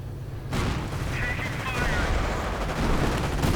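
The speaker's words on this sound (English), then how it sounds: "Engineers getting murdered by the MG gunner." Machine gun fire in a real-time strategy battle as an MG gunner cuts down engineers, a dense rattling burst running steadily and loudly under game noise with a voice talking over it.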